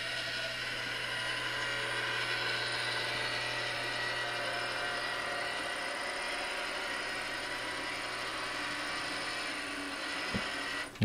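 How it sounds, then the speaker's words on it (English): A Roomba robot vacuum runs its spiral demo pattern, a steady whirring hum of motor and brushes that stays even and continuous throughout, with a brief knock near the end. "we can tell the Roomba to go and just run a spiral pattern by selecting that demo and having it run"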